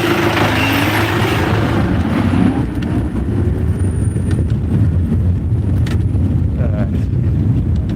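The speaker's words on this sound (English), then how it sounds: "Look at all this traffic on my right." Steady city traffic of cars and trucks rumbles close by, with wind buffeting a moving bike-mounted microphone throughout and a voice briefly audible over the din.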